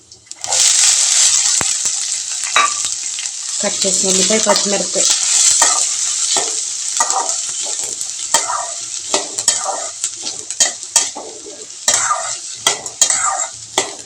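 Chopped onion and green chilli sizzle steadily in a mustard seed tempering in a pan, with a spoon stirring and scraping through the constant bright frying hiss, close and loud.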